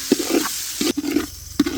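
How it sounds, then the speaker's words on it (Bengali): Raw rice for chicken tehari fries in a pan after onions, giving a close sizzle broken by repeated rhythmic scraping strokes of a spatula as it is stirred. "চালটাকে আমরা ভেজে নিব"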